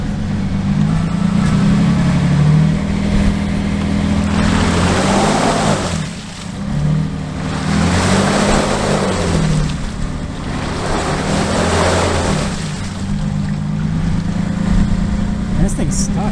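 Stuck off-road SUV revving, a low steady engine drone that swells in three long surging pushes of throttle with a broad roaring rush, loud and close throughout.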